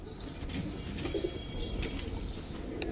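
Bronze-and-mosaic pigeons on a farm coo softly among a dense flock, with wing flaps and rustling layered over a busy, continuous murmur.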